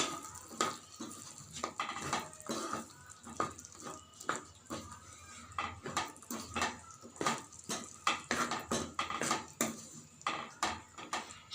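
A spoon stirs rajma curry in a cooking pot, making repeated scraping and knocking clatters in an irregular rhythm, close and moderately quiet, with no talk over it.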